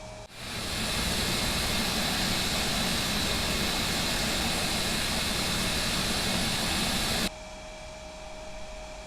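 An MD-82 jet engine spooling up in an X-Plane 11 cockpit, a steady loud broadband roar with a tonal whine holding throughout, then dropping abruptly to a lower hum near the end.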